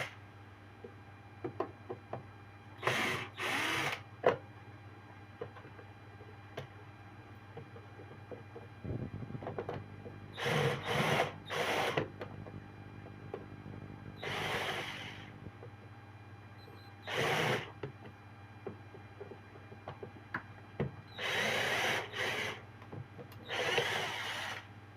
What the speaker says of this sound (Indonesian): kita di sini memakai bor